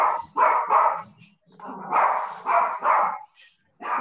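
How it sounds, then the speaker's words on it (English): Several loud, close dog barks in bursts, grouped in pairs with short pauses, while a person's voice is faintly heard between them. "your dog is upset or hungry?"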